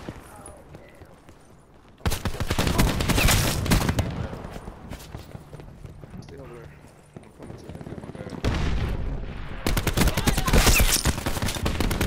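Gunfire in Call of Duty Black Ops 4 Blackout comes in two loud, rapid bursts of sustained shooting with quieter stretches between them and a voice talking over the action.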